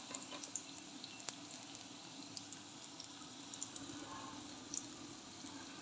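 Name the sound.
aubergine slices frying in a pan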